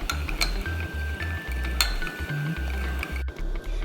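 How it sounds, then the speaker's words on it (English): A spoon stirs sugar and salt into a liquid in a small bowl, making rapid, repeated light clinks against the sides, close and alone without talk. "Then stir until the sugar and salt is dissolved."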